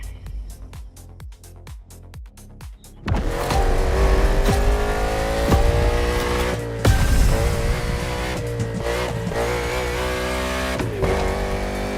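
In The Crew Motorfest, the Thunderbolt car's engine sounds in a few short blips, then roars into a loud sustained rev that climbs and shifts through gears, with brief dips between pulls.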